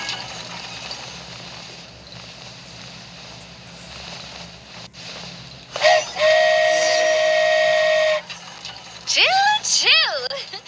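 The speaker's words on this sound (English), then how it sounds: "Choo-choo! Aerial Express moving out." Aerial Express flying train in Genshin Impact departs with a loud sustained steam-whistle blast, then rising whistle toots, after a quieter rumbling stretch with a sharp click midway.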